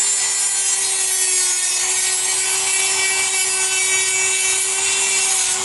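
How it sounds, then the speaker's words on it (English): A Dremel rotary tool carves into a foam skull, giving a steady, close, high-pitched whirring grind with a constant motor whine that runs without pause. "With the Dremel, you just go in and start."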